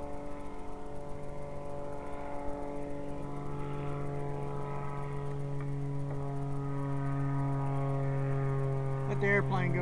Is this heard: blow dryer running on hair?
no